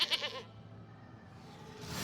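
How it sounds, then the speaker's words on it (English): A goat token appears in the digital card game MTG Arena with a short, bright bleat up front, then a soft, fading tail of quiet game ambience. "Alright, he creates a goat."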